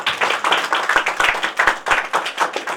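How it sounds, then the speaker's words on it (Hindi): Congregation clapping in rhythm at a Christian worship gathering, steady repeated claps filling the room with no voices over them. "ताली बजाएंगे।"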